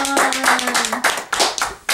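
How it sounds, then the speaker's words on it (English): A small group claps briefly for a colleague named Ron on his last day at a Tour de Peace check-in, scattered hand claps, close and fairly loud, over a steady tone and a brief voice. "I'd like to give us a little applause for Ron"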